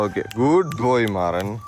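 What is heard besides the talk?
No everyday noises stand out.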